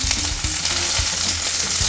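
Star anise and a cinnamon stick sauté over low heat, producing a loud, close, continuous sizzle with faint crackles across the short stretch; no one talks.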